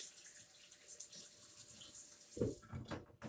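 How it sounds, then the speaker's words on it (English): A tap runs quietly in a home kitchen, then the flow turns into louder splashing as hands are rinsed under it between layering strawberries for a dessert, heard close with no speech. "Let me rinse my hands off real quick."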